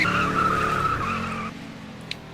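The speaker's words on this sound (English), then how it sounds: "He is just doing burnouts" Race car in a racing video game doing burnouts after hitting a wall: a loud, sustained tire squeal with engine roar that holds steady for about a second and a half, then drops away.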